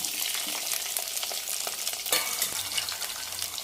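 Onion and green chillies fry in a pan for bitter gourd pulusu, giving a steady, close crackling sizzle with occasional stirring scrapes, no voices.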